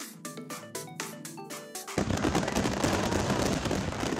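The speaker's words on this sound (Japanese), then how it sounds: "大井川を挟んだ両岸、2カ所から同時に打ち上げる花火は迫力満点です。" Fireworks at the Ōigawa fireworks festival in Shimada, Japan, launched from both riverbanks, crackle and pop in a fast rapid series, then burst into a dense, loud roar of overlapping explosions that keeps going.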